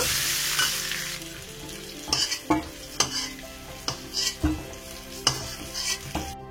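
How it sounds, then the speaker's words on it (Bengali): Potatoes fry in hot oil with salt and turmeric, a continuous close sizzle broken by sharp, irregular scrapes and clacks of a stirring utensil against the pan. "লবণ আর হলুদ দিয়ে আলুগুলো ভালো করে লাল লাল করে ভেজে নিতে হবে।"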